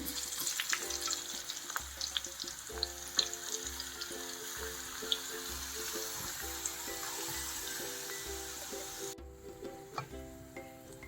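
Dried red chillies fry in hot oil as a tempering for lemon pickle, making a steady close sizzle with scattered crackles over a pulsing low hum that stops near the end.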